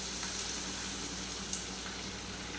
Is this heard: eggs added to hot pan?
yes